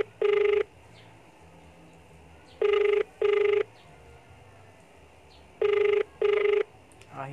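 An unanswered phone call ringing in three bursts, one single ring then two double rings with quiet gaps between them, clear and close over a faint background hum.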